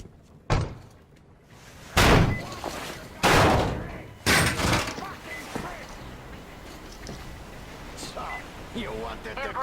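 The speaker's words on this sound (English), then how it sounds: "The door's giving. Let's give it a shove" A heavy door in Metro Exodus is shoved open with several loud, booming thuds and slams spaced a second or so apart, followed by quieter rustling and distant voices.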